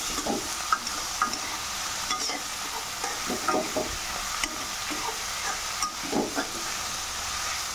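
Sweet pumpkin with dried fish and turmeric hisses gently in a pan while a spatula scrapes and pushes it around, soft irregular stirring strokes over a low, steady sizzle.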